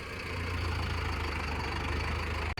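A Mahindra tractor engine idles close by with a steady, even diesel rumble and a low knocking throb, loud and continuous for the whole stretch, with no voices.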